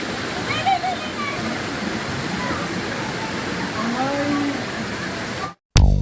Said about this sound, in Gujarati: તમે અત્યારે પણ આવશો તો પણ હાથીની માતાનો ધોધ તમને જોવા મળવાનો છે.